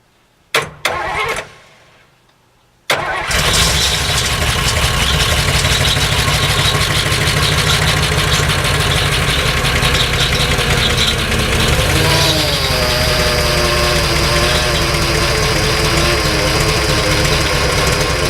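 A 1955 Chrysler New Yorker engine, run on a 12-volt battery in place of its 6-volt system, gives a few brief cranking bursts and then catches on a cold start, settling into a loud, steady idle with no talk.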